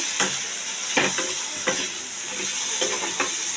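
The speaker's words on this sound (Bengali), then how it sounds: "সবজি প্রায় আমার সেদ্ধ হয়ে এসছে, ভাজা ভাজা হয়ে গেছে।" Vegetables fry in a pan with a steady sizzle, broken by several sharp scraping strokes of a spatula stirring at uneven intervals, close up with no voices.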